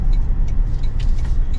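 Inside a 2024 Toyota Tundra 1794 TRD Offroad pickup truck cruising at normal road speed, a steady low road-and-engine rumble fills the cabin, with faint wind and tire noise over it.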